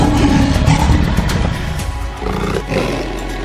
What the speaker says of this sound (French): Tous deux s'engagent dans un combat acharné, leur rugissement résonnant dans la savane